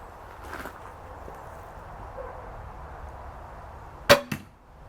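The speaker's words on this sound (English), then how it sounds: "I could hear metal hitting metal" Sharp metal-on-metal clank from a crossbow, two quick impacts close together near the end after a quiet stretch, loud and close.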